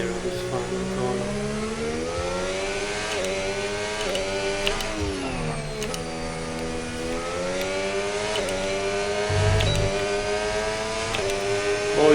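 Formula 1 car engine in a racing video game, a loud steady high-pitched whine that rises and falls through gear changes and dips for a corner, continuous and close, with a voice speaking briefly beneath it.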